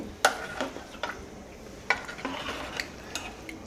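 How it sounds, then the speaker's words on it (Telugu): A metal ladle stirs bottle gourd curry in a pot, scraping and clinking against the sides in a few distinct close strokes over a soft simmering sizzle. "ఇప్పుడు ఒకసారి గరిటతో చిన్నగా ముక్కలని అటు ఇటు తిప్పుతూ అంతా కలిసేంతవరకు ఒకసారి కలుపుకోవాలండి ఈ పులుసు అంతటిని"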